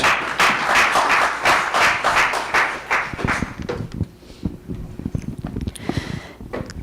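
Audience applause at a conference inauguration ceremony, a dense burst of clapping for the first three seconds that thins into scattered, tapering claps.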